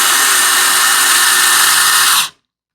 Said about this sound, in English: Raising this with the drill is my absolute favorite part of this